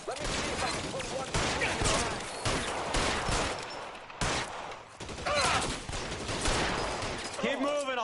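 Rapid video game gunfire from LA Noire, dense overlapping shots in near-continuous bursts with a short gap, loud and close, mixed with voices talking over the shooting.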